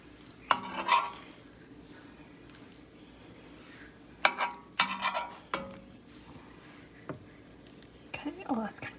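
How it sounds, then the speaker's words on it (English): A plate and cutlery clink and scrape in short bursts as a portion of egg for a yogurt egg sandwich is served onto the plate, close and fairly quiet, with gaps of kitchen quiet between. "To my plate, I'm going to add my portion of the egg."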